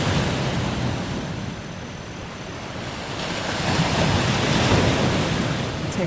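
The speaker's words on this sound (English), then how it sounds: "let's just take a moment to let everyone listen to the soothing waves and not our voice" Ocean surf breaks and washes against the shore in a broad, steady roar with wind buffeting the microphone, swelling louder toward the end, and no voices over it.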